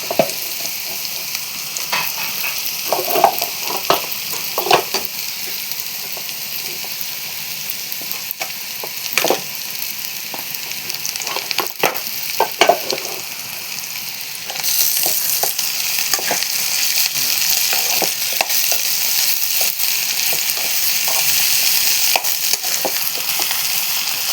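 Carrot and okra pieces sauté in a hot pan for a vegetable sambar, giving a steady close sizzle broken by intermittent stirring scrapes and soft clatters, with no talking.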